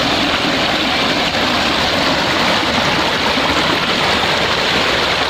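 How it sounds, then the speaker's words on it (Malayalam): Spring water flows out of the ground on a trek through a Munnar spice and tea plantation, making a steady, loud, close rushing wash with no break or voices. "ഇവിടെ വെള്ളത്തിൻ്റെ ഒരു ഉറവുണ്ട്."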